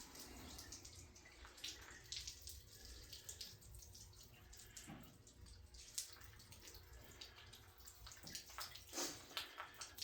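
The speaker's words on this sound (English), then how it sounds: "I barely have the water hose cracked on at all." Water runs steadily from a garden hose barely opened, at low pressure, a soft continuous hiss and patter with occasional splashy spurts, close by and without speech.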